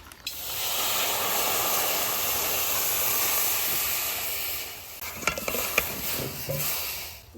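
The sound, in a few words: taro being boiled in a pot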